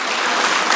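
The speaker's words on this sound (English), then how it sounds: "I thought we would clap for the country." Brief burst of dense audience clapping during a public lecture on technical and vocational education, loud and steady without talk.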